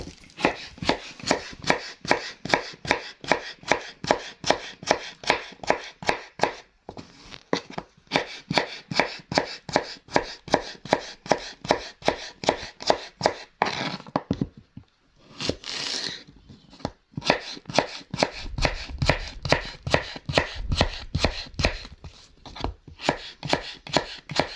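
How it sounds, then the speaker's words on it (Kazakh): A knife chops cucumber on a board in quick, even strokes, a long run of sharp crisp taps with a couple of brief pauses, close and alone without talk. "Бірінші қиярымды турап алайын."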